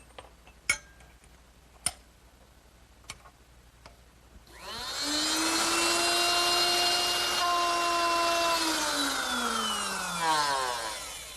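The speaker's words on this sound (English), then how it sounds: "Notice I'm in no hurry to pull the router back out." Woodworking router fitted with a dovetail bit: a few sharp ticks and knocks, then the motor spins up to a loud, steady high whine while cutting wood, its pitch sagging slightly toward the end.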